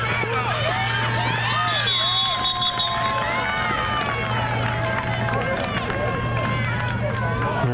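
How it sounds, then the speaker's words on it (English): A crowd of kids cheers and yells loudly at a Friday night high school football game, a dense continuous roar of voices with whistles and shouts over a low steady hum. "Friday nights, you can always count on the kids to make a lot of noise."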